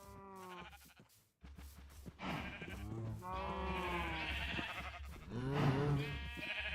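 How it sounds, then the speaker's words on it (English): Sheep bleating in the video game Minecraft, several wavering calls following one another in a steady run, fairly close and loud with no talk over them. "let's see if we can kill some of these sheep"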